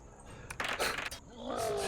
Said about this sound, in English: A lion sounds extremely sentient.